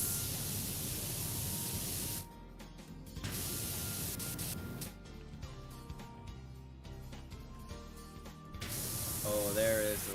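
Pressure washer spray from a power-washing video game using the red nozzle: a steady broadband hiss that cuts out and returns in bursts, with a spoken voice briefly at the end.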